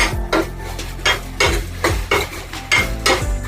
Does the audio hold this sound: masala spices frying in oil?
yes